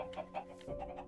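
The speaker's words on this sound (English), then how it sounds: "you can see the chicken there" Chicken clucking in a farm-building video game with a coop of chickens kept in stalls, several soft clucks repeating at a steady pace, quiet and close.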